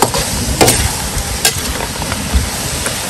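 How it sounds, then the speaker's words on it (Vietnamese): Banana blossom frying in fish sauce in a pan, a loud steady sizzle with scraping stirring strokes and a few sharp clatters of a utensil against the pan. "Này qua chuối nè, chiên nước mắm."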